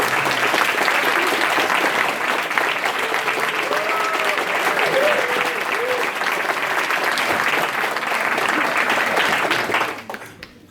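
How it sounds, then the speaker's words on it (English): A large audience at a hackathon showcase gives newcomers sustained, dense applause with a few scattered voices, holding steady for about ten seconds before cutting off sharply. "we just give them a round of applause"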